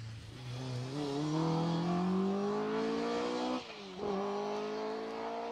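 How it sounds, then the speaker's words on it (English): A Vauxhall Chevette HSR rally car on an asphalt stage roars past close by, its engine note climbing steadily under load, briefly dropping on a gear change, then pulling hard again. "The Vauxhall Chevette. What a beautiful car this is."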